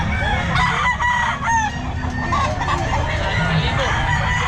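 A rooster (stag) crows amid a busy Filipino pet market, its call rising over steady crowd noise and nearby vendor chatter.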